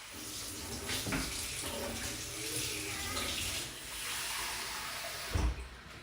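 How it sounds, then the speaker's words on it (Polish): Water runs from a kitchen tap during rye sourdough bread making, a steady splashing hiss over several seconds with a brief louder clunk near the end. "Z kranu daję, z kranu, tak."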